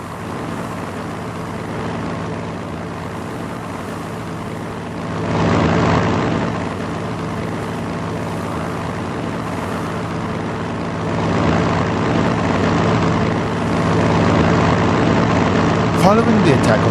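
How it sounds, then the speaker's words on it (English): Steady droning engine of a tactical bomber in the strategy video game Panzer Strategy, a continuous hum that swells slightly as it attacks, with someone narrating over it. "Choose a tactical bomber. Bomb the enemy by clicking on it with the left mouse button."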